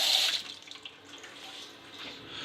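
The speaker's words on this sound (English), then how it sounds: "And you can tell that is hot water." Hot water from a home boiler runs from a tap into a sink, a loud close splash at first that eases into a steady gentle flow, with no talking.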